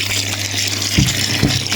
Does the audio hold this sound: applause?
no